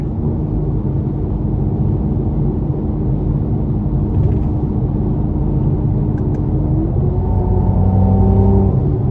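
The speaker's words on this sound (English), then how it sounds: "Mercedes and BMWs for me just have the best sounding exhaust" A 2018 Mercedes-Benz C43 AMG Coupe's engine and exhaust rumble deeply and steadily, then the pitch climbs as it revs up and accelerates near the end, loud and close.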